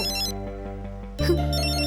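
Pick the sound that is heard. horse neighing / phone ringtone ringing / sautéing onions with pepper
phone ringtone ringing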